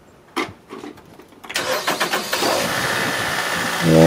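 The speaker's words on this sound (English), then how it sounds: "And let's start the car, and that's pretty much it." A 2009 Nissan Rogue four-cylinder engine cranks with a few quick starter bursts, then catches about halfway in and settles into a steady, close idle, with no talk over it.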